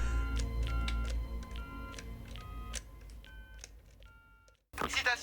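A telephone keypad is dialed during a puzzle game, giving a string of short, irregular touch-tone beeps over a low background hum, then a brief burst of noise at the end.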